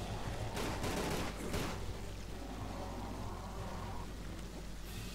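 Gunfire bursts from Tomb Raider: The Angel of Darkness, a rapid fusillade of shots in the first two seconds followed by a dense, steady hiss of game ambience and effects, with no voices.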